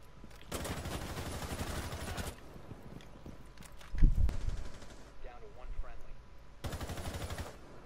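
Bursts of gunfire in the video game Rainbow Six Siege, fired through a wall: two long rapid automatic volleys near the start and end, with a heavy thump and scattered shots between them.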